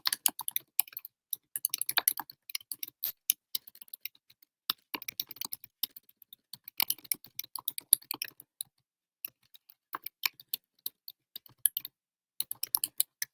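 Rapid bursts of keystrokes on a computer keyboard, typed close by in quick irregular runs with brief pauses between, no voices.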